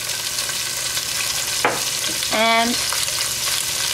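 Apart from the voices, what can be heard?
onions, carrots and thyme frying in pan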